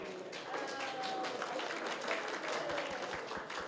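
Steady clapping from a group at a workshop session fills the clip, dense and even throughout, with some voices mixed in beneath it.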